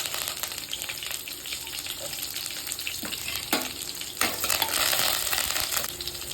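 Chopped shallots and curry leaves fry in hot oil for a spicy Tamil brinjal curry, giving a steady close sizzle with a few louder spits and a scrape of stirring.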